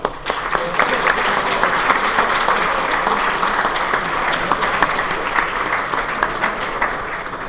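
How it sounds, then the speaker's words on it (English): Students in a university computer science lecture hall applaud together in a dense, steady burst of clapping that holds at an even level for several seconds, with faint voices mixed in. "let's applaud for all of you"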